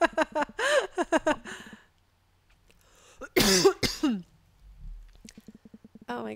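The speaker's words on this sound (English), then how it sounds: "Oh my gosh, I need to not cough anymore." A person playing the Night in the Woods video game gives one loud, harsh cough burst in the middle, between stretches of their own talking.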